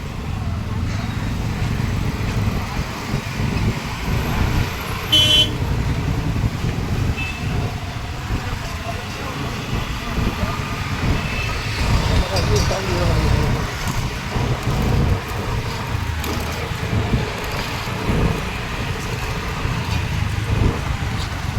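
Steady rumble of passing road traffic near the Mithi River bridge with a brief, sharp car horn honk early on, continuous and fairly close throughout.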